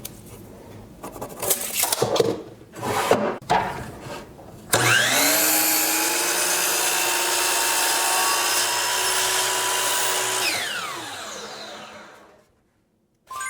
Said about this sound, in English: I'm going to cut it at 16 inches long.